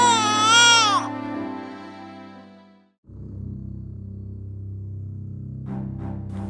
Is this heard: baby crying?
yes